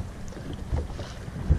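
A fishing boat on Rend Lake moving against the wind, a brief low rumble of engine and wind noise with water wash, steady and moderately loud.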